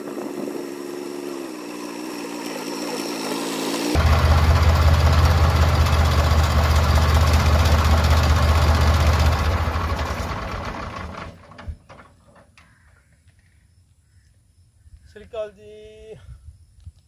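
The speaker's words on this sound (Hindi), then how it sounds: "बस अज ट्रैक्टर लेके आए जी" A farm tractor engine runs in a field being prepared for sowing, idling steadily, then revving into a loud low roar for several seconds before dropping back to a quieter idle, with a brief voice near the end.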